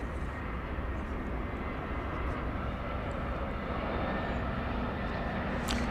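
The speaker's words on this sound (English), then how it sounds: "So that plane's off to San Diego." A jet departing DFW Airport at night roars as a steady, broadband engine rumble that holds constant through the stretch, moderately distant and loud with no talk over it.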